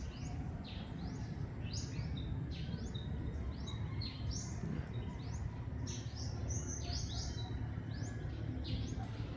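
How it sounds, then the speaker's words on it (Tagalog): A flock of birds on a farm chirps busily and repeatedly over a steady rumbling background hum, the tweets overlapping throughout without pause. "Daming ibon dyan oh"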